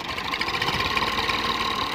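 An empty Massey Ferguson 240 tractor engine chugs steadily at close range, with a dense mechanical rattle and no pauses, while the tractor crosses a rough, potholed track in Pakistan.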